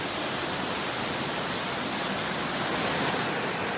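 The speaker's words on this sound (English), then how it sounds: "We got some nice spray coming off the falls." Roaring rush of a waterfall throwing spray along a mountain hiking trail on Franconia Ridge, New Hampshire, a steady broadband hiss that stays loud and unbroken throughout with no voices.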